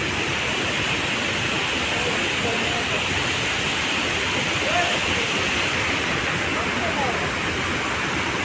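A monsoon-swollen waterfall near a hillside temple at Devkund rushes in a steady, dense roar that stays loud and unbroken throughout, with no voices over it.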